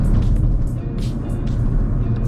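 A Mercedes-Benz A250 Sport AMG picks up speed, its engine a steady low rumble mixed with road and wind noise, heard from inside the car with no talking.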